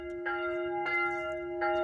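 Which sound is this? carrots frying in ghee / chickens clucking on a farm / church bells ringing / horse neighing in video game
church bells ringing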